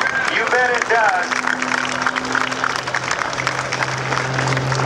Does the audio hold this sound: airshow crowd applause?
yes